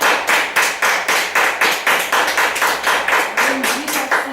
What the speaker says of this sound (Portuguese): Vamos aplaudir Jesus nessa noite